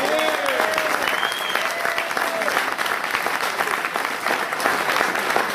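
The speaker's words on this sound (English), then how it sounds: "I think he deserves a round of applause" An audience at a Latin rock award event applauds Bernie Gonzalez, a fundraiser for Hispanic autism causes, with steady dense clapping throughout and a few brief whistles and voices rising above it.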